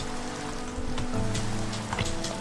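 Steady broadband hiss of rain falling in the video game Minecraft, continuous and fairly even across the whole stretch, with a low tonal hum and faint game sounds underneath.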